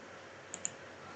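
Two quick, light mouse clicks, close together and faint, over a quiet room hum while drawing a floor plan for a three-unit bungalow on a computer.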